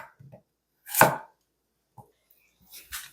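Knife chopping Korean radish on a cutting board in a kitchen, one firm close cut followed by a few lighter taps, quiet and alone.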